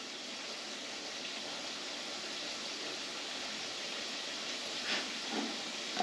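Cubed steak sizzles in a hot pan, a steady broadband hiss with a few brief pops near the end, heard up close with no talk.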